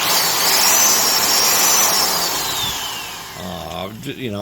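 A high-pitched Vevor 1/2-inch heavy-duty mixing drill whirs loudly, its pitch sliding slowly downward as it winds down, then a burst of speech near the end.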